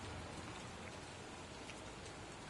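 Steady rain falls in an alley within a Batman video game, a dense, even hiss of drops continuing throughout, soft and uninterrupted with no voices.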